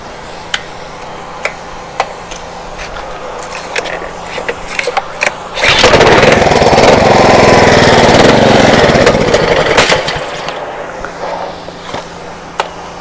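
A Ryobi pressure washer engine starts up and runs loud and close for about four seconds, a steady rough petrol roar that then cuts out, with scattered ticks and knocks before and after.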